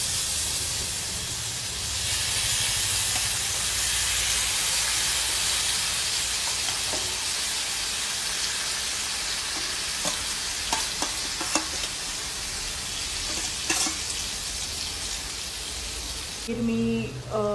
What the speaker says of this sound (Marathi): पनीर टाकून घेऊया. गॅस स्लो ठेवूया.